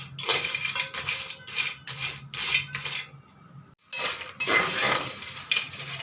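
Medium-sized fish go into a pan on a stove, with a run of clinking and scraping from a metal utensil against cookware in short bursts, then a pause and a louder sizzling rush.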